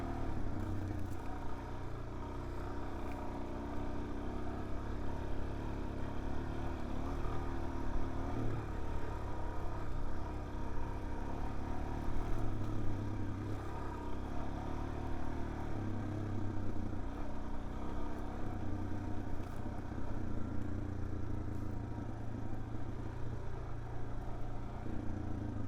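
Suzuki DRZ 400S dirt bike ridden along an off-road trail, a continuous loud engine drone with steady low rumble and wind noise, throttle rising and easing slightly throughout.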